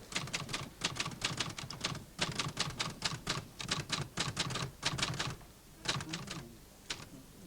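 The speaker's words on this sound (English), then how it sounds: "The merry clack of typewriters assiduously at work?" Office typewriters clacking away in bursts of rapid keystrokes with brief pauses between runs, close and crisp, with no voices.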